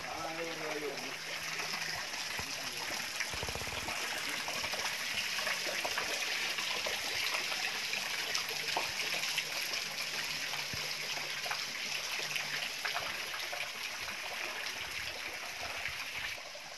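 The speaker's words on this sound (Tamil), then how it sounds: "Mini water falls." A small waterfall in Ooty splashes and rushes in a steady, continuous wash of flowing water, with a voice speaking briefly near the start.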